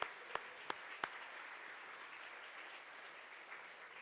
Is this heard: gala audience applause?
yes